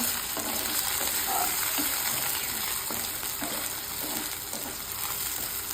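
Onions sizzle steadily in a pan for chicken curry cooked with whole fenugreek, a continuous frying hiss broken by regular soft scrapes of stirring.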